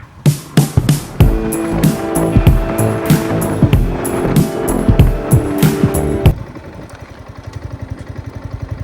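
A Yamaha R15 motorcycle engine revs hard and loud up close while riding, rising in repeated throttle bursts, then drops to a lower, pulsing idle-like burble.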